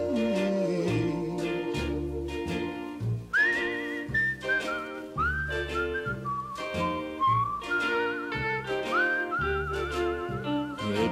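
A person whistles a melodic tune alone, clear and close, the pitch gliding and stepping through phrases over steady musical accompaniment, with no one speaking.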